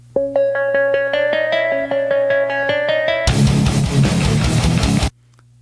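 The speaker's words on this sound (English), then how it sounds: "I put down a synth part, so it sounds like this." A melodic synthesizer line of steady repeated notes plays alone, then gives way to a loud, dense burst of noisy full-band sound before cutting off.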